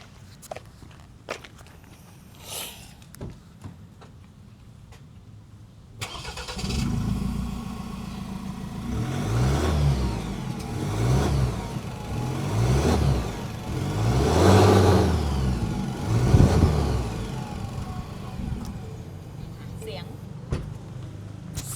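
Orange Ford Raptor with a 2.0 bi-turbo diesel, 10-speed automatic, 4x4 and a titanium AZC exhaust, starting up after some quiet handling noises and then revving in a series of deep, rising and falling pulls, heard up close.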